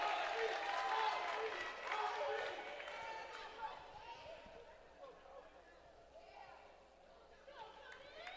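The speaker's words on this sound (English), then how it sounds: "Crowd getting into the final match of the evening." A crowd at a college men's wrestling match against Graceland cheers and applauds, loudest at the start and then fading to scattered claps and chatter, while a commentator talks over it.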